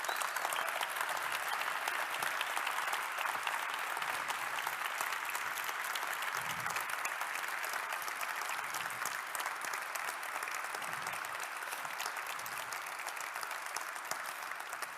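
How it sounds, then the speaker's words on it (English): Steady crowd applause from an audience at a Techstars accelerator event in Torino, honouring the teams and their families. It runs at an even level for the full fifteen seconds with no pause. "I would like to ask you for a special applause"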